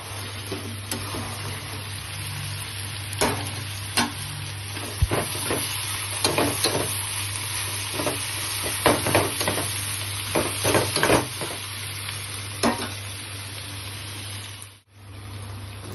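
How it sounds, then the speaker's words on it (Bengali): Chopped onions fry in a pan into crisp browned beresta, a continuous close sizzle under a low steady hum, broken by repeated sharp scrapes and clacks of stirring. "এটা পেঁয়াজ বেরেস্তা করে নেব।"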